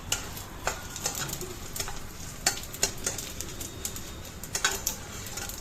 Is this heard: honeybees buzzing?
no